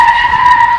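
A school bus skids with a sharp, loud tire screech, a short steady squeal used as a comic sound effect.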